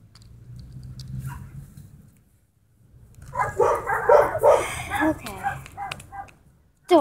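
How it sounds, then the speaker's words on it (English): Several dogs bark and yip in a loose burst of overlapping calls after a quiet stretch, close and fairly loud, with a person's voice also heard. "Dogs."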